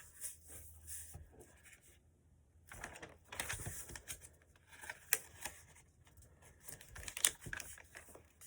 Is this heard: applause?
no